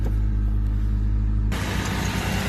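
A cold car engine with a suspected blown head gasket idles with a low, steady hum, then abruptly turns much louder and rougher about halfway through, rumbling close by.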